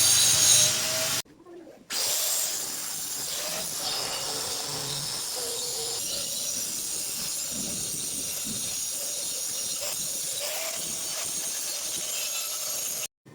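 Power tool work on a car's AC compressor bracket, a loud, steady high-pitched grinding hiss with a brief cutoff near the start, then continuing with slight rubbing variations, close up with no talk.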